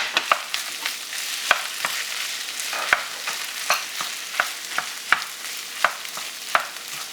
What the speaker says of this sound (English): Now we're going to add chopped tomato into our fried rice.